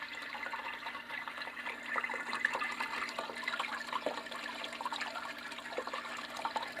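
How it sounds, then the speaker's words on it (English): An aquarium water pump keeps water running and splashing in a steady, continuous wash at moderate level, with no voices over it. "If you're like, man, I need a good pump. And I'm talking about water pumps."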